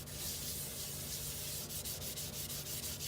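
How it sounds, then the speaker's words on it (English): Close, steady rubbing of a brush or scrubber across a kitchen sink with borax, a continuous gritty scrape with a faint rhythmic pulse toward the end. "I'm just going to scrub it"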